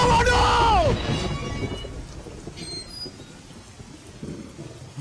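Heavy rain pours steadily in a film scene, a dense, even hiss that carries on through the whole stretch, with a voice speaking loudly over it at the start.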